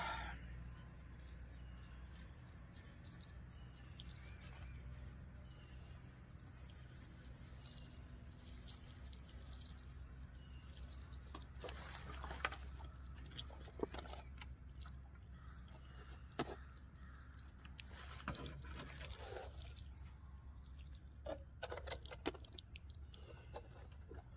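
Soft splashing and dripping of water onto soil, faint and continuous, with scattered drips and patters and a distant rooster-like call in the background.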